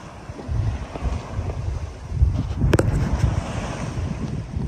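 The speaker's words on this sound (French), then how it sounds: "petit Force 4, 15 nœuds de vent." Wind roars across the microphone over the rush and slosh of sea water against a moving sailboat in a Force 4, 15-knot wind, continuous and fairly loud.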